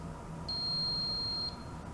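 A leak sensor control module gives a single high-pitched electronic beep lasting about one second over a low background hum, steady and clear.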